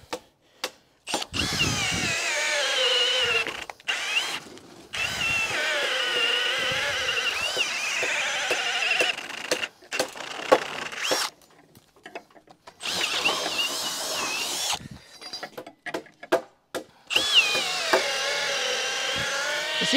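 Power tool tightening nuts down onto the timber base of a garden room under construction, running in repeated loud bursts with short pauses between them and occasional ratcheting clicks.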